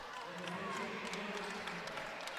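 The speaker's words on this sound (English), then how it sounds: "You can hear the claps on Abdul." Spectators at a women's college basketball game clap steadily in the gym, a faint, continuous patter of hands heard at a distance beneath a commentator's voice.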